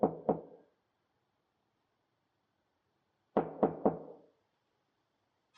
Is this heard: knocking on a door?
yes